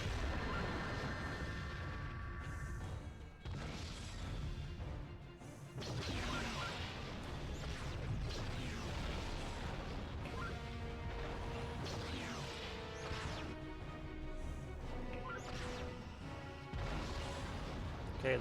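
Repeated detonations of weapons in the space combat game Star Trek Encounters, with dense crashing blasts and whooshes layered over a continuous loud game soundtrack throughout.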